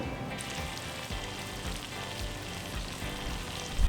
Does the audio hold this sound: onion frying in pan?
yes